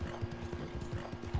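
Horse hooves clip-clop in a video game, a quick steady walking rhythm of close, fairly loud hoofbeats.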